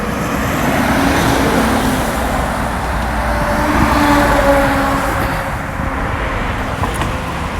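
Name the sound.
trucks driving on highway traffic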